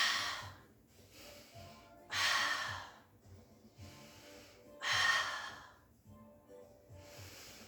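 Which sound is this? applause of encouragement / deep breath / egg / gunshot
deep breath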